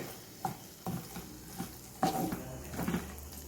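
Butter is stirred into food in a pan, giving soft scraping and clinking spoon strokes in uneven bursts over a faint, quiet sizzle.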